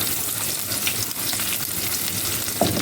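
Large Chinese garlic cloves sizzle steadily in heated oil, a dense, close, even crackle that holds at one level, with a brief louder sputter near the end.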